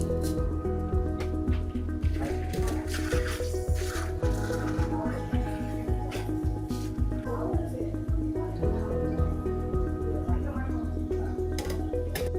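Water drips and trickles through a filter in a homemade rainwater-to-drinking-water setup, with a steady stream of small splashes and squishy liquid sounds running throughout, beneath a constant tonal hum and background voices.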